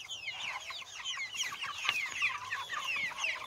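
A flock of chickens clucks and chatters at the coop at evening feeding time, a dense, close, continuous mix of overlapping calls with no talk.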